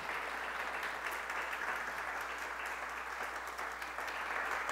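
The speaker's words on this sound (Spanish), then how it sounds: "Dale un fuerte aplauso al Señor." A church congregation applauds in a steady, soft wash of clapping that sounds fairly distant and quiet throughout.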